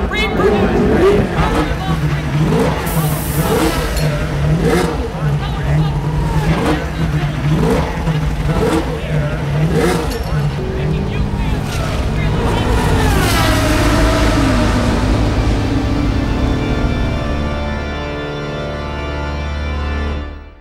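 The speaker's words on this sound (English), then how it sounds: "the powered subwoofer can handle low frequencies, like the sound of a race car engine" Race car engine recording played through a powered subwoofer, a loud, continuous roar with repeated rising revs and gear-change surges that settles into a steady drone before dropping away.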